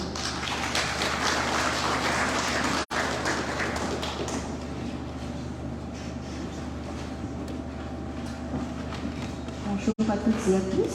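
Applause rises from the audience at an official opening ceremony for a business linkage programme, a dense patter of clapping that thins out over several seconds while voices carry on beneath it.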